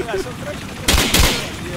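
Gunfire in the Call of Duty video game, set on a night construction site in Rio: two loud, sharp bursts of shots close together, with brief player chatter around them.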